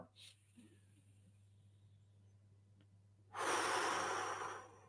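One deep, close breath: a long, loud rush of air follows a few seconds of near silence and a faint earlier breath.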